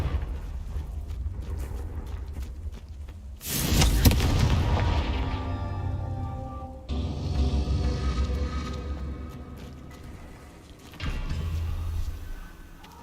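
Confringo fire spell blasts in Hogwarts Legacy, with a loud booming burst near the four-second mark, another strong blast around seven seconds and a smaller thump near eleven seconds, each followed by a rumbling decay over a steady game ambience.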